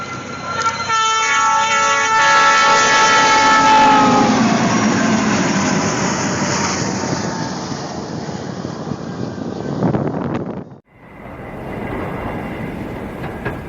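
A train ploughs through deep snow, throwing it outward, heard as a loud, steady rushing roar with horn-like tonal notes early on, then a sudden dropout near the end before a quieter rumble returns.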